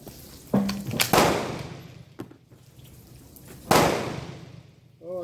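A Berthier model 1916 rifle fires a cast-bullet handload and blows the primer: two sharp, loud reports about three seconds apart, each with a broad crack and a trailing echo, in an otherwise quiet outdoor setting.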